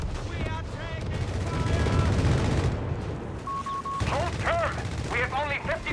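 Artillery and gunfire in a Company of Heroes 3 battle, with dense overlapping shots and booms rolling loudly through most of the clip, mixed with game voices and a brief electronic tone.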